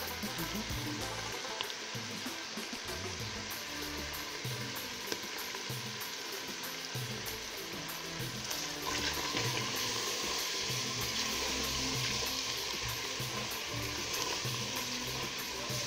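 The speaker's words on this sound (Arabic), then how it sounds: "هنا بعد ما تقلى معايا شويه الشامبينيون" Button mushrooms with chicken and potatoes frying in a pan give a constant crackling sizzle with occasional stirring scrapes, close and fairly loud.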